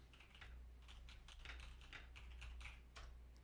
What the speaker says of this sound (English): those keyboards are just crazy loud